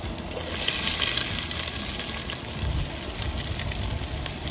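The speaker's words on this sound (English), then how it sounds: "let's start with the garlic. We'll cook it until it's golden brown." Garlic frying in a pan, a close continuous sizzling hiss with a soft crackle that holds steady throughout, with no talking.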